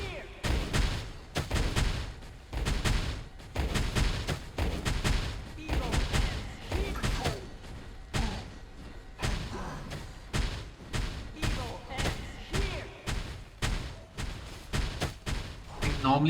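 Gunfire and explosive battle effects from the video game Watcher of Realms, dense rapid thumps and shots packed together continuously at steady loudness throughout.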